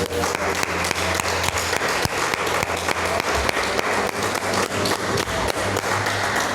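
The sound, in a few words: congregation applause in church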